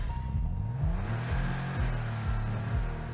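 An Aston Martin's engine in a video game revs repeatedly, its pitch climbing and snapping back down through quick successive gear changes at moderate volume.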